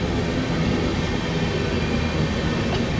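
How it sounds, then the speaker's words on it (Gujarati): A long passenger train rolls past at a station in Bilimora, a steady, dense rumble of wagons on rails filling the whole stretch without pause or voices. "બહુ લાંબી ટ્રેન છે"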